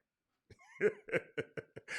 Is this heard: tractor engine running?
no